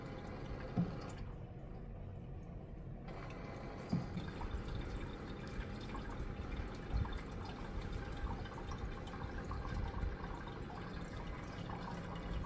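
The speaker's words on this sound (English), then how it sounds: "you can hear it filling up the ice tray, or the little section that actually produces the ice" Water trickles and drips steadily into the ice tray of a countertop ice maker, a faint continuous filling sound with occasional soft knocks.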